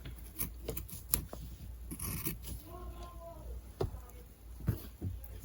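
Scissors snip and scrape through fabric for a face mask, a series of faint, irregular close cuts and rustles with quiet pauses between them.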